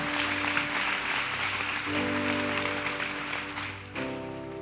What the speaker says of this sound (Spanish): Dele un aplauso al Señor, porque es bueno.